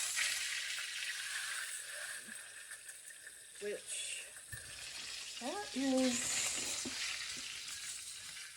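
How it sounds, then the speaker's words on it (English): Rice frying in hot oil in a pot gives a steady soft sizzle, with faint clinks and a short scrape, and a voice speaks briefly. "Turn the oil back up and then put the rice"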